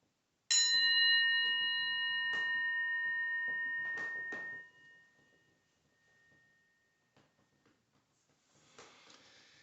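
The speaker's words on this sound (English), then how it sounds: "I'm going to ring the bell. I'm going to ask you to listen carefully." A single clear strike of a meditation bell rings out and slowly fades over several seconds into near silence.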